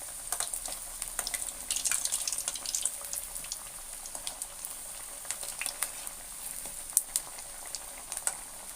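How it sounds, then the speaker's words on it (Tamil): Rava appalu, a semolina sweet, frying in hot oil, giving a steady crackling sizzle with dense bursts of bubbling and popping close by, with no talk. "எண்ணெய் நல்லா காஞ்சிடுச்சு. இப்போ நம்ம அதை பொரிச்சிக்கலாம்."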